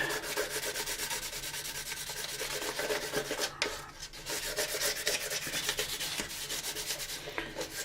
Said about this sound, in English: Whoever thought that 15 minutes of sanding a saucer could be so much fun and so informative